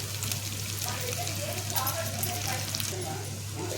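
Pieces of bottle gourd frying in oil with lentils and curry leaves: a steady, dense sizzle with crackling over a constant low hum, close by, with no pauses.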